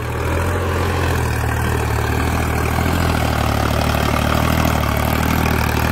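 A Sonalika MM45 Mileage Master diesel tractor pulling a cultivator runs steadily, a loud close continuous engine drone with a low throbbing rumble and no pauses.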